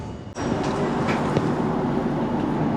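A train rolling on the line from Hanoi toward Ninh Binh in Vietnam, with a steady loud rumble of wheels and carriage noise that continues without a break and no clear sign of braking.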